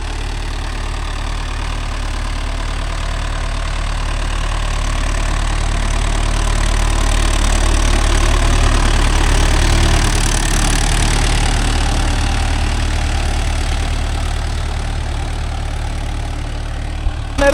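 A Mahindra Yuvo Tech Plus tractor idles on a road, its diesel engine holding a steady, close, low rumble that swells slightly midway and then settles.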